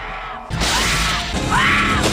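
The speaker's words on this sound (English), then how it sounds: "You hear them use this awfully familiar screaming sound." A film soundtrack from Freejack (1992) carries a stock sampled scream, a loud wailing voice rising and falling twice over a crashing, noisy background mix.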